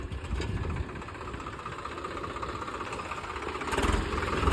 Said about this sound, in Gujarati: આ ત્રીજું ટ્રેક્ટર આવી ગયું કાઢવા